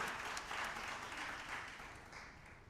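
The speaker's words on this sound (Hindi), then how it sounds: "एक बार जोरदार तालियों के साथ हम स्वागत करेंगे" A hall audience at a joint replacement patients' reunion program applauds a speaker's welcome, fairly faint clapping that fades gradually toward the end.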